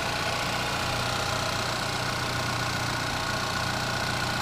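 A 2014 Chevy Malibu's 2.5 liter engine idles under the open hood, a steady, even mechanical hum with a constant whir, close and uninterrupted.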